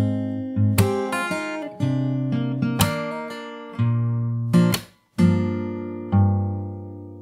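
Opening of a song on fingerstyle acoustic guitar: a run of plucked chords and bass notes, with a brief silent gap near the end before a final ringing chord, close and unaccompanied.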